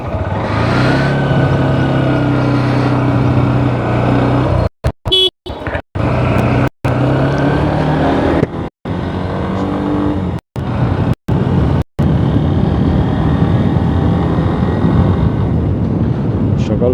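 Motorbike setting off in morning traffic from Uttara toward Mirpur after overnight rain: a close, loud engine that revs up and drones on, broken by several abrupt momentary dropouts, with wind and traffic noise behind.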